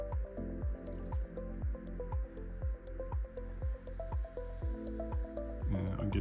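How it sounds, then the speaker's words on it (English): Isopropyl alcohol glugs and squishes into a plastic bottle while rinsing out homemade 3D printing bed adhesive, a steady rhythmic train of close, quiet liquid gurgles. "I'm gonna use some of this isopropyl alcohol to rinse it in"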